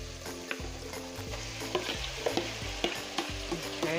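Meat returns to a hot pan of caramelized vegetables for low-carb stuffed pepper soup, giving a loud, close, continuous sizzle broken by sharp scraping stir strokes and clinks at a steady pace.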